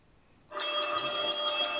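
A bell rings suddenly after a brief quiet moment, a sustained electric doorbell-like jangle that continues loudly to the end.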